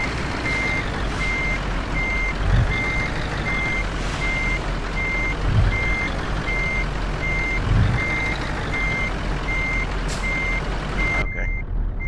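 A truck with a trailer reverses in Euro Truck Simulator 2, its reversing beeper sounding in a steady, evenly spaced series over a constant low engine drone, with a few brief bumps and no voices.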